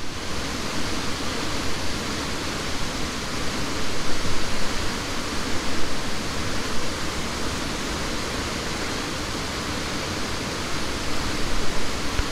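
Steady, dense roar of Falls Creek Falls fills the whole clip, broadband and loud with slight surges, no voices.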